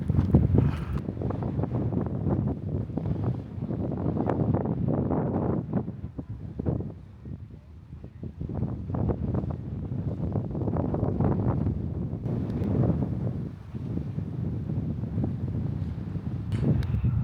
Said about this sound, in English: the wind was quite heavy over there, and else you wouldn't hear me on the camera